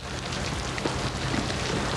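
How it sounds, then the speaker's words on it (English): Steady rain falls and patters on surfaces, a continuous dense hiss that stays loud and even throughout with no voices over it. "we could do without this rain, now, couldn't we?"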